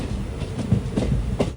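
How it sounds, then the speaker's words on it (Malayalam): A superfast sleeper train rolls into Kollengode railway station in Palakkad, wheels thumping over rail joints in an uneven clickety-clack beneath a steady rumble, heard up close from on board. "ട്രെയിൻ ഇപ്പോൾ കൊല്ലംകോട് റെയിൽവേ സ്റ്റേഷനിലേക്ക് ഇതാ എത്തുകയാണ്"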